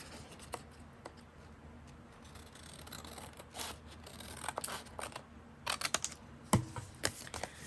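Scissors snip through paper for a mini file book craft, with a scattering of short, crisp cuts that cluster more tightly toward the end, close and fairly quiet.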